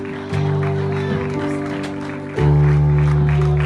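A church congregation claps steadily through the whole stretch, with sustained organ or keyboard tones and voices mixed in and a louder swell of sound near the end.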